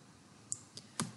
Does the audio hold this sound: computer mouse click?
yes